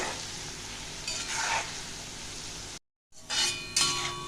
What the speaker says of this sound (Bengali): এরকম করে একটু নাড়িয়ে চাড়িয়ে দিতে হবে এবার আমি এক দু মিনিট ভালো করে ভাজবো